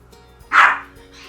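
A single short, sharp bark from a young puppy named Treacle, loud and close against a quiet room background.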